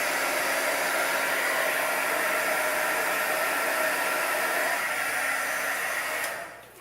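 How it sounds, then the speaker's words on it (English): A heat gun more than 20 years old, used on paint to raise cells in a painting, blows a loud, steady hot-air roar close by that holds unchanged for several seconds before tailing off at the very end. "You can see my heat gun has been used."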